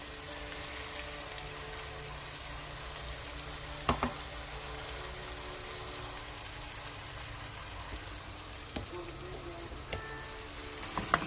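Yellow squash and onions sizzle steadily in a frying pan, a dense close crackle with occasional sharp scrapes and clicks as the vegetables are stirred and moved around, no voice over it.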